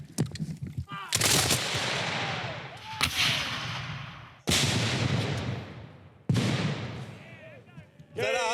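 Volleys of musket-style gunfire from a Civil War battle scene: several loud, sharp bursts, each trailing off in a long rumbling echo, with shouted voices between the volleys.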